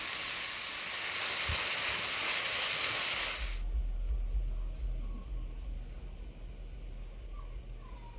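Vegetables for a lasagna meat sauce sauté in a pan with a loud, bright sizzle for several seconds, then it drops abruptly to a quieter low hum.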